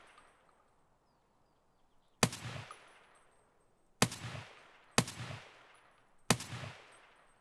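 Four sharp, loud gunshots in Escape from Tarkov, spaced irregularly over a few seconds after a quiet stretch, each with a short ringing decay; no talking.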